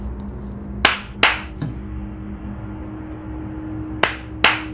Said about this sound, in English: you know the thing where you clap and the lights turn on and off